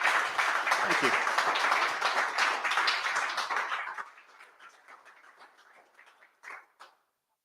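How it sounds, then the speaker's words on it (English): Audience applause closes a conference talk on bridging Rust and React Native: dense, steady clapping for about four seconds, then it thins to scattered claps while a voice speaks briefly. "Let's have a round of applause"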